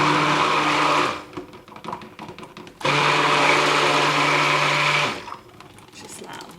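A stick blender whirs through white cold process soap batter in two loud bursts of about a second and two seconds, each followed by quieter stirring and handling sounds.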